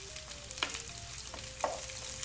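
Chicken pieces for chicken adobo fry in a hot pan over high heat, a quiet steady sizzle with a few brief scraping stirs and soft clinks, no voices.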